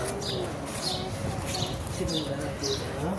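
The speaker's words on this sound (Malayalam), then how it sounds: "പക്ഷികൾ വെള്ളമൊക്കെ കുടിക്കാൻ പതുക്കെ ഇറങ്ങിയിട്ടുണ്ട് കണ്ടോ" Soft cooing and chirping of birds coming down to drink water outdoors on a hot desert evening in Dubai, repeated calls at a moderate distance, fairly quiet with light background noise.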